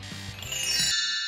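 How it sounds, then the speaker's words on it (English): A phone alarm rings in a storytime scene, bright high chiming tones that build and sustain over a fading low background, then ring on alone. "she didn't hear her alarm on her phone ringing"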